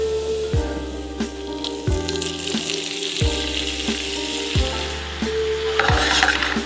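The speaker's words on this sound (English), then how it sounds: "I'm just mixing up all the garlic and the steak seasoning, getting that all stir fried" Smoked meat stir-frying in hot oil with roasted garlic and steak seasoning, a steady close sizzle broken every second or so by a loud scrape-and-stir of the utensil through the pan, with no talk.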